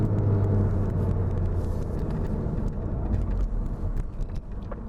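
A Mk7 Volkswagen GTI with an APR Stage 2 tune and stock muffler rumbles loudly up close during a rev match, with a brief rise and then a gradual easing off, and no one talking.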